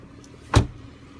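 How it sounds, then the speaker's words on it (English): A Chrysler 300 car door shuts once with a single solid, close thud in an otherwise quiet setting. "Door still sounds solid."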